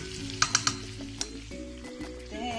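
Chicken curry with pineapple cooks in a pan with a soft, quiet sizzle, broken by a few quick spoon clinks and scrapes as it is stirred.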